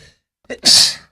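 A single close, loud sneeze: a short inhaled catch followed by a sharp, breathy burst that trails off.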